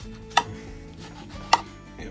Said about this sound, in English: So I'm just scoring through the flesh, just as you would if you were barbecuing this.